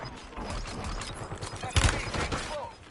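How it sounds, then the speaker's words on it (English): Mechanical clicks and ratcheting of a magazine being swapped in a video game, layered over steady game ambience, with a louder clack about midway through. "Loading new mag"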